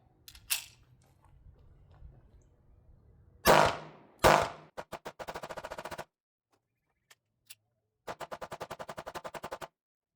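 An M&P pistol fires in bursts: two loud single shots, then a rapid string of about six, two isolated pops, and a final fast volley of around a dozen rounds, all outdoors with no talk.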